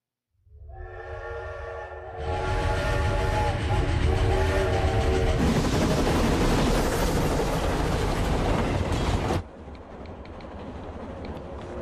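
A train horn sounds, then a loud passing train roars and clatters for several seconds before fading to a quieter rumble.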